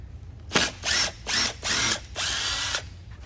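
A power drill backs screws out of a pontoon boat seat in five close, loud whirring bursts, the last one longest, separated by short pauses.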